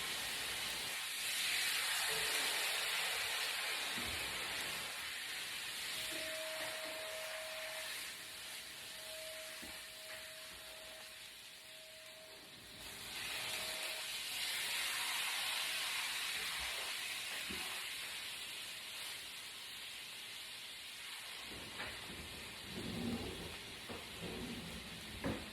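Barria taco sauce poured into a hot skillet with softened tortillas, a steady loud sizzle and hiss that swells and eases over time, close up and without talk.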